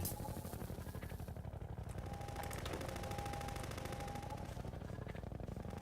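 Rapid automatic gunfire from the video game Garry's Mod rattles continuously, dense and steady throughout, with no talking.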